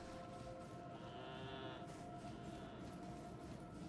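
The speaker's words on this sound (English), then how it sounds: "I can't tell that's the noise that the goats are making." Goats in the video game Elden Ring give a wavering bleat near the middle, standing out briefly over a constant dense game soundscape of noise and sustained tones.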